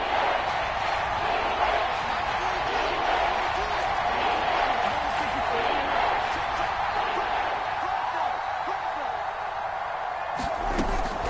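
A crowd roars steadily in a PS4 football game broadcast ahead of a big third down, a dense, sustained stadium wash sitting under continuous commentary.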